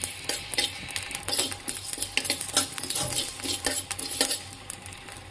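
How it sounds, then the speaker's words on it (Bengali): Fennel seeds are lightly roasted in a pan for a sour-sweet dried jujube pickle. A utensil stirs and scrapes them in a quick, irregular rhythm, making close metallic clinks and scratching over a soft sizzle. "এখন আমি ভেজে নিচ্ছি কিছু মৌরি"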